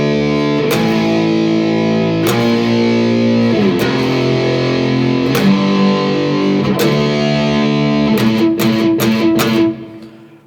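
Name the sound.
electric guitar playing a chorus riff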